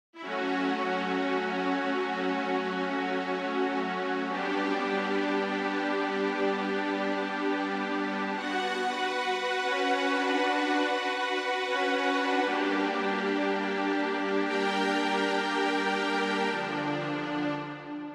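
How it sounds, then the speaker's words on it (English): Sustained big chords on a lush synth string patch drenched in reverb, steady and loud throughout with shifting harmonies, part of a metal song cover. No talking. "just this one string patch here"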